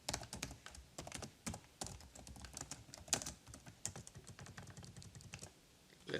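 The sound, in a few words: typing code on a computer keyboard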